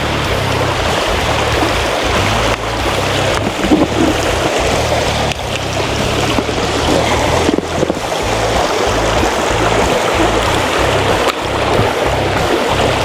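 Glacier meltwater in the Resurrection River outside Seward, Alaska, rushes in a steady, loud, broadband wash. Wind noise buffets the microphone, and no voices are heard.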